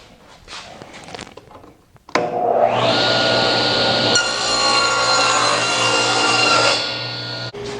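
A power saw spins up and cross cuts a 17.5 inch board for a shop file cabinet, a loud sustained whine that shifts pitch as the blade bites, then winds down near the end.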